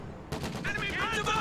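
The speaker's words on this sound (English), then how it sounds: "MG34 in the building." An MG34 machine gun fires in a World War II real-time strategy game, a quick rattling burst that starts abruptly and runs on briefly under a commentator's voice.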